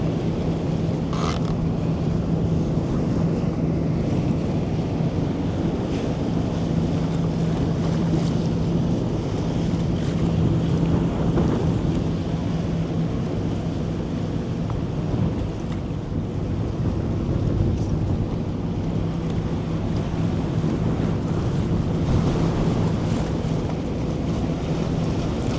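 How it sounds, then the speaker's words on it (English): Strong wind blows at sea, a steady, dense rush buffeting the microphone throughout, with a low boat-engine hum running underneath and no talking. "that wind is strong"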